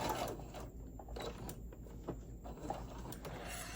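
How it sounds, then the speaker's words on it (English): A sewing machine stitches straight across the bottom of a fabric tote bag, giving a steady, close mechanical whir with small stops and restarts. "I'm going to sew right across the bottom"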